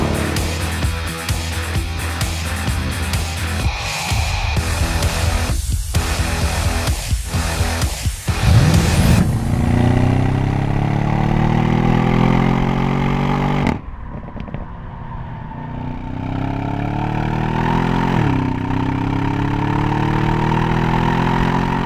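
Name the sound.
Audi S7 V8 engine note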